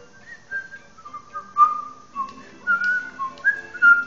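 A person whistling a tune while playing Epic Mickey, a clear, close, melodic line of short sliding notes and held pitches with small breathy gaps, alone without speech.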